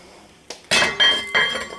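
A metal lid set onto a pot of collard greens clinks and rattles sharply a few times in quick succession, close and fairly loud, each strike ringing briefly.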